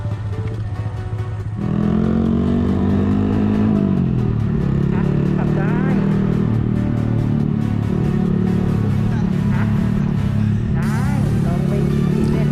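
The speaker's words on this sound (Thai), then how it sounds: "สำหรับ Honda m o n k e y นะครับ เป็นรถที่สามารถใช้งานในเมืองได้คล่องแคล่วว่องไวมากครับ" Honda Monkey 125 motorcycle ridden two-up through city streets, its small engine idling low before revving up and pulling away, a steady buzzing drone with shifting pitch as it accelerates and eases off.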